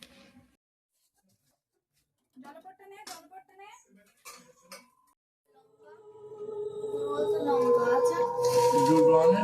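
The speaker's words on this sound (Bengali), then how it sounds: "তো আলুটা ভেজে নেই।" Potatoes for Bengali aloo bhaja start frying in a home kitchen pan: after a few moments of quiet and a little speech, a steady sizzle swells up and continues to the end, growing fairly loud.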